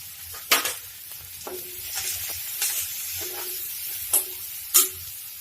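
Mung dal with turmeric, chopped onion and salt fries in a pan under a soft sizzle, broken by several sharp scraping strokes of a spoon stirring, close and clear.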